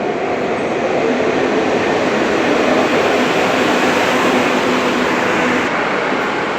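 A roughly 100-year-old train in Spain rumbles steadily along the rails, a loud, continuous roar with rattling wagons and no break in the noise.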